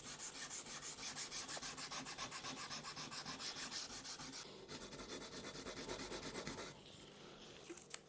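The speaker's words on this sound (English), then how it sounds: "use some Scotch-Brite pads of different grits and some metal polish to try and clean them up" Metal vice parts from a vintage Woden vice scrubbed with Scotch-Brite pads and metal polish, a fast, steady back-and-forth rubbing close up, loud at first and then softening and easing off toward the end.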